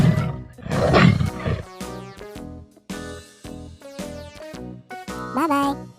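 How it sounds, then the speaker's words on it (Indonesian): A tiger roars in a children's animal-sounds lesson, a loud, gritty growl in the opening seconds, followed by a light, tinkling jingle melody. "Tiger."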